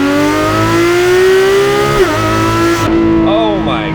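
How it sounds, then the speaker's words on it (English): Naturally aspirated 4.0-liter flat-six of a 991 Porsche 911 GT3 RS, loud and close, droning steadily, then dropping and blipping sharply through PDK downshifts, with someone talking over the engine at times. "we're gonna slow down a little bit, bang off some downshifts"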